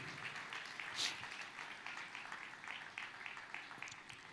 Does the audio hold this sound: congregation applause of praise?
yes